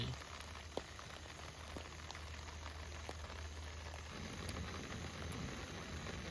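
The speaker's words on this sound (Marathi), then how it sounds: "बघा पाऊस काय थांबत नाही" Heavy monsoon rain pouring steadily, a dense even hiss of drops on surfaces with a few louder individual drips, no one speaking.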